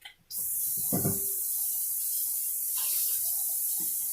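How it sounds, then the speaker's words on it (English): Tap water runs in a strong, steady gush into a canner being filled for canning pickled garlic, starting abruptly and continuing close and loud, with a few faint knocks underneath. "I need to add a little more water to my canner."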